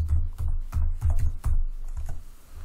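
Keystrokes clatter on a computer keyboard in a quick burst of distinct taps, close and clear with no talking, ending in a short pause.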